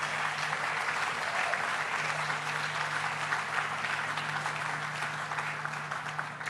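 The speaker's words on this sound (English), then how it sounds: "Let's give her a big round of applause" Applause from a seated crowd at the Tribeca Film Festival in New York, a steady rush of many hands clapping at moderate distance, unbroken for several seconds over a faint low hum.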